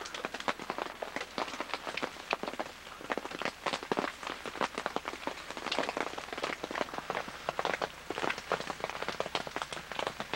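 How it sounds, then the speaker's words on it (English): Steady rain falls outdoors during a river portage trip, a dense patter of drops striking a nearby surface, close and continuous with irregular louder hits, no voices. "still raining."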